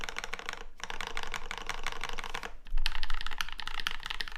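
Typing on a RAMA U80-A mechanical keyboard with a brass plate: dense, continuous clacking of keystrokes, close and steady, with a brief pause near the start and a slightly louder burst of keys toward the end.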